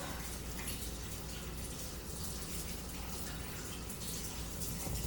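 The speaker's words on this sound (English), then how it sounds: "I'm gonna get all that glue off my hands. Use lots of soap." Glue is washed off hands with soap under running tap water, a steady close hiss of flowing water with faint rubbing and clicking mixed in throughout.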